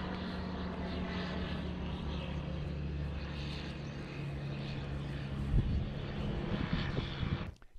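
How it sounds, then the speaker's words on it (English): German warplanes of May 1941 over Crete drone steadily as a loud, continuous propeller-engine roar, with no break and a brief swell near the end. "The German planes are coming."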